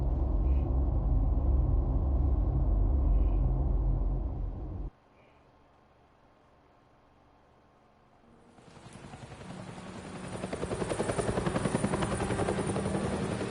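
A helicopter in Batman: The Telltale Series roars with a loud, throbbing rotor rumble, cuts off abruptly into near silence, then swells back up as a steady, close whirring drone.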